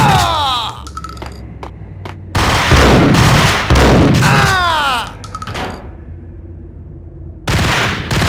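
Gunfire and action in the Max Payne 2 video game: loud bursts of shooting and impacts alternate with quieter stretches of whooshing and clatter, with a voice calling out between.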